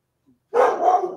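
A dog barks once, close and loud, a single harsh bark that trails off roughly, preceded by a faint short sound, with no talk.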